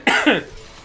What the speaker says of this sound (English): fucking coughing way too much